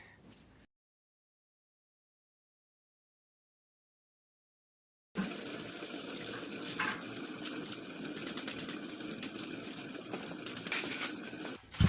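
Shrimp snacks frying in hot oil over medium heat, a steady broadband sizzle with bubbling crackle that starts abruptly after a stretch of silence and continues close and fairly loud.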